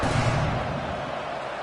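A college football video game stadium crowd makes a steady, loud roar of broadband noise that holds evenly throughout without any distinct individual voices.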